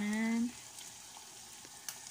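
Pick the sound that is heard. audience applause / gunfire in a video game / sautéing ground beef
sautéing ground beef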